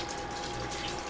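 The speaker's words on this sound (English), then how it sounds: "We want to add enough water to cover it almost to the top." Water pours steadily from a tap into a pot of chicken stew being made as pollo guisado, a continuous close rushing hiss that stays even throughout with no voices.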